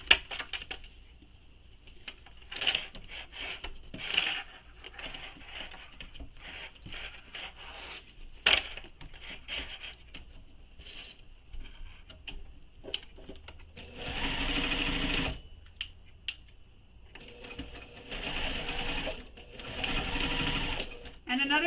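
Sewing machine backstitching the corners of a leather wallet, fast mechanical stitching bursts starting and stopping, with quiet clicks and handling sounds between runs.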